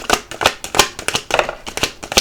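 Tarot cards being shuffled by hand make a quick, rhythmic run of crisp riffling and slapping bursts, close and fairly loud, repeating about every fifth of a second with no talking.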